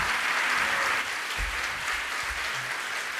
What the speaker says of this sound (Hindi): तालियां अच्छे से बजाइए ना आप लोग।